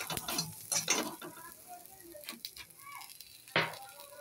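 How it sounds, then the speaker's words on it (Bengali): Taro leaves with a pinch of turmeric stir-fried in a pan, a soft sizzle running under repeated scraping and stirring strokes, with a sharper clatter of the utensil near the end. "এবার এটাকে আর একটু ভালো করে নাড়াচাড়া করে ভাজবো।"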